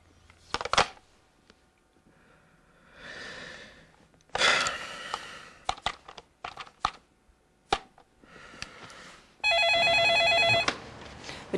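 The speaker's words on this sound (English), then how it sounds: "Now, he's going to make a phone call." A telephone bell rings in one loud, steady burst near the end, preceded by scattered clicks, taps and handling noises of someone dialing a phone call.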